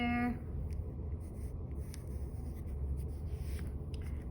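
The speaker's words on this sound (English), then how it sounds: "Get my big eraser out. Erase that line right there." A big eraser rubs out a pencil line on a fish drawing, making soft, close, scratchy strokes in short bursts over quiet room tone.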